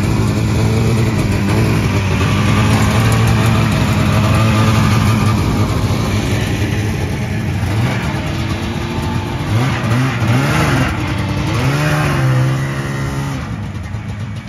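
A vintage snowmobile engine runs loud and steady just after a first pull start, its two-stroke note revving up and down in several surges before settling toward the end.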